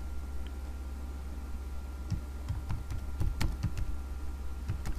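Keys clatter on a computer keyboard in a short, uneven burst of close taps that gets denser toward the middle over a soft steady hum.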